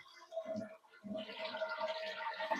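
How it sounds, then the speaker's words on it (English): A toilet flushes just after its float valve has been replaced, a rushing, gurgling swirl of water that surges after a brief pause and keeps running steadily close by, with no talk over it. "One more flush."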